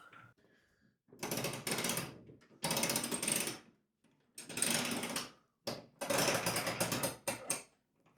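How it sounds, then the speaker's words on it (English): An electric actuator from a Push Industries chute deflector kit rotates a snow blower chute back and forth. It makes four or five close, buzzing mechanical runs of about a second each, separated by short silences. "now I'll run the chute all the way in both directions to make sure we got clearance"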